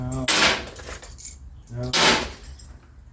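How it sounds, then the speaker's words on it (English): Yale keys jangle in two bright metallic bursts of clinking, close by, with quieter handling rustles between them. "These are all Yale keys."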